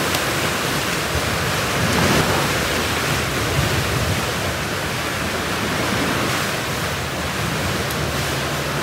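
Rain falls on a tent pitched near a beach and forest, a dense, steady hiss of drops that keeps up unbroken and fairly loud for nine seconds, with no voices.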